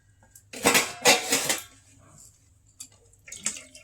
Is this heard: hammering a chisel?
no